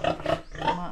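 A pig grunts and squeals in quick, nasal bursts, loud and close, in a pigpen, with two short calls followed by a longer one.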